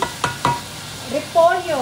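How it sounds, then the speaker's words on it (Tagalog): Sautéed ingredients stirred in a pan for a cabbage dish, a few distinct scraping strokes near the start followed by a soft sizzle and short tonal squeaks toward the end, close and fairly quiet. "syempre halo-haluin natin sila."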